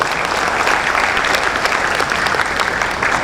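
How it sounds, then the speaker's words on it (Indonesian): Loud, dense applause from an audience at a school foundation gathering, honoring the foundation chairwoman. It fills the hall steadily and evenly, with no pauses, for the whole stretch. "Tepuk tangan untuk Ibu Ketua Yayasan."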